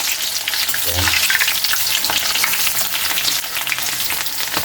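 Sliced onions sizzle in hot cooking oil, a steady bright crackling hiss that holds for several seconds, with a brief low thump near the start as they go into the pan.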